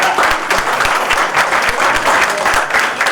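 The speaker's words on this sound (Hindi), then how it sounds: "और ताली बजा रहे हैं जिनको ऑनर मिला" An audience applauds award-winning teachers at an honouring ceremony, loud sustained clapping from a crowd close by, dense and continuous for the whole stretch.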